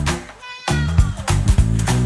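A cat meow sounds within a lively Ukrainian children's song about animal musicians, short and clear over bouncy backing music.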